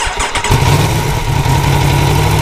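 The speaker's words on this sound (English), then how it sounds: "we'll start her up and we'll let you guys hear what he sounds like with stock exhaust" A 2018 Aprilia Tuono V4 1100 Factory motorcycle's V4 engine with stock exhaust cranks briefly, catches, and settles into a steady, deep rumbling idle, close and fairly loud.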